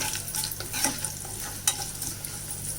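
Garlic and curry leaves frying in hot tempering oil, with a steady close sizzle and crackle, a few sharper pops and spoon scrapes breaking through.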